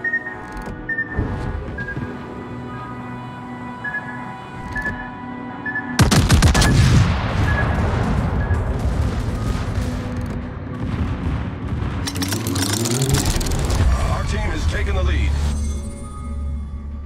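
In a naval battle video game, a heavy explosion hits suddenly after scattered gunfire, followed by a sustained rumble with rapid bursts of shooting and booms, loud and close.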